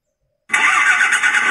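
A sound-effect module on a miniature generator set plays an engine start: after half a second of silence, a loud simulated engine bursts on and runs steadily at a buzzy, electronic-sounding idle to the end.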